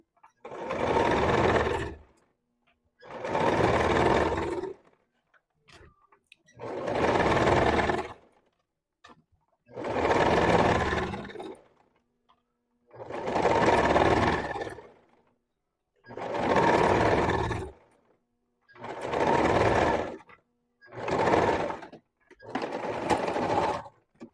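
A sewing machine stitches elastic onto fabric in eight loud, even bursts of whirring, each a second or two long, separated by short quiet pauses as the fabric is stretched.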